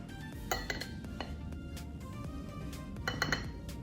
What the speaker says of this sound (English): and then spoon it into the muffin tin